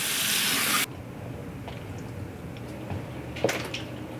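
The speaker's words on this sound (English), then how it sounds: "Cold water." Cold tap water runs hard into a kitchen sink while turkey is rinsed. A loud gush is cut off abruptly early on, followed by quieter handling noises and a brief splash or clatter near the end.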